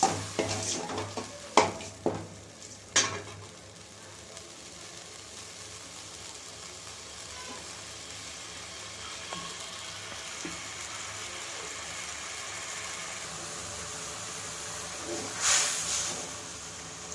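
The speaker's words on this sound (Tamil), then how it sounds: "தக்காளி புளியும் நல்லா கொதிச்சு வருதுங்க" A pan of tomato and tamarind water simmers with a soft, steady hiss and bubble. A few sharp utensil clinks come early on, and a louder hiss rises near the end.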